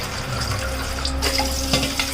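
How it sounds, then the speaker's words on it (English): Water runs steadily from a kitchen tap into a vessel, a continuous close hiss and splash with no one speaking. "Filling water."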